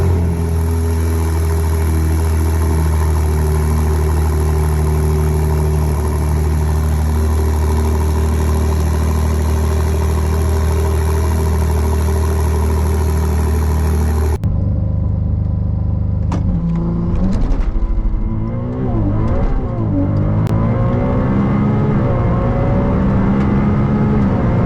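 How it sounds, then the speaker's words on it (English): A Ferrari 296 with its V6 engine idles in a steady, loud drone after a cold start, then cuts to sharp revs climbing and falling as the car accelerates, with no voices. "The V6 engine sounds glorious. Take a listen to a cold start and an accelerating clip."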